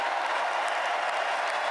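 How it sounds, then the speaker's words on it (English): An audience claps at Donald Trump's inauguration, a dense, steady patter of applause heard at a distance throughout. "Why are they clapping for that?"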